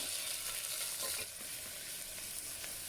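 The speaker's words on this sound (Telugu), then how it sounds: "అల్లం వెల్లుల్లి పేస్ట్ టమాటో అన్నీ వేయించేసేయండి ఇలా రౌండ్గా తిప్పుకుంటే మీకు మాడకుండా ఉంటుందండి" Vegetables, tomato and ginger garlic paste fry in a pot, giving a soft, steady sizzle with faint stirring scrapes throughout, no voices.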